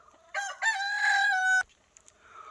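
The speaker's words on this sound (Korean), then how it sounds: "오랜만에 장닭 우는 소리도 들어봅니다" A rooster crows once nearby on a rural hillside farm plot in Changnyeong, giving a loud, clear cock-a-doodle-doo that rises and holds for about a second before cutting off into quiet.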